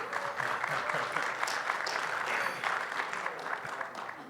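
Moderately quiet, continuous applause from a conference audience in a security talk track, an even wash of clapping with no speech over it.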